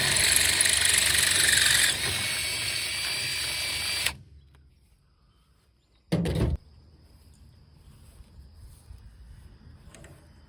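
A power drill bores out a bolt hole on a haybine during farm repair, a loud steady whine for about four seconds that then cuts off, followed by a short burst of noise and a quiet hum.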